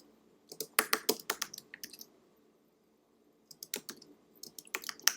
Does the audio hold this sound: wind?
no